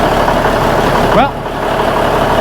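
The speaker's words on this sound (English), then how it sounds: "it's running though. Sounds like it's running better at least. It's not idling up and down like it was." A truck engine idles steadily in a close, loud low hum, with a brief whining sweep and a short dip partway through.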